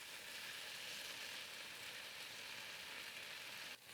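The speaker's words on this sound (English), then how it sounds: "Listen to that sizzle." Scallion greens sizzle in a hot pan with a miso and sake slurry, a steady, loud frying hiss that fills the whole stretch, with a brief dip near the end as they are stirred.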